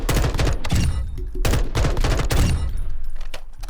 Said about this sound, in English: you can really, keep firing. And remember, you can burst fire as well